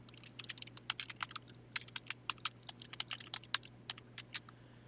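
Rapid, irregular keystrokes clatter on a computer keyboard in a quiet room, close and crisp, with short pauses between bursts of typing and no talking.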